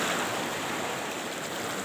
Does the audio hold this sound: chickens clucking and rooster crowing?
no